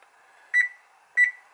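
A convection oven's control panel beeps twice while being set, two short, clear electronic tones about half a second apart over a quiet background hum.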